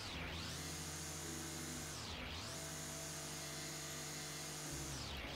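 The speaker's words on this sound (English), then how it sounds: "A little bit of power tool usage never goes amiss in a game like this." A power tool whirs in the Garden Flipper video game, a steady motorized drone that dips and rises again twice, moderately quiet with no talking.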